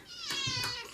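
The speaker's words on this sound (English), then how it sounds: "That's the cat yelling." A house cat yowls in a drawn-out, wavering cry, close and fairly loud, with two swells of intensity in one continuous call.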